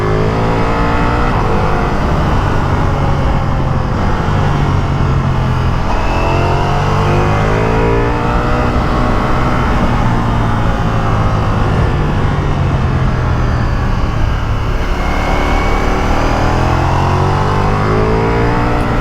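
A Ducati Multistrada V4S motorcycle engine climbs a hill road, revving hard and rising through repeated short shifts, each gear change dropping the pitch before it builds again, loud and close throughout.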